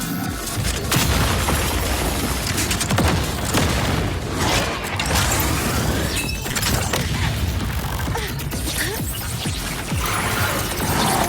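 Units unleashing a sustained barrage in the video game Wuthering Waves, a loud, relentless stream of booming shots, crashes and explosions overlapping for over ten seconds without pause.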